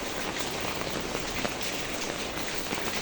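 Steady, dense rain pours down during Typhoon Carina, a continuous broadband hiss of drops hitting surfaces, even and unbroken with no voices.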